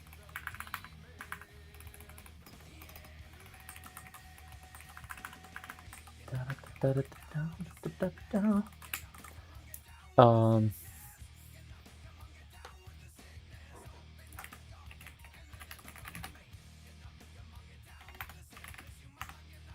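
Typing on a computer keyboard during game development work, appearing as a few short bursts of clicky keystrokes partway through under quiet room noise and low background speech.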